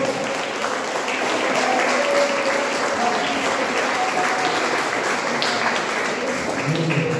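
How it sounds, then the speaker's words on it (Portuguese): Sustained applause from a church congregation during an evening service, steady and loud throughout with a few voices calling out over the clapping. "Aplausos, Senhor."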